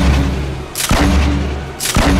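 Two loud, close gunshot blasts from the Fortnite battle royale video game, spaced about a second apart, each cracking sharply over a steady low rumble of game noise.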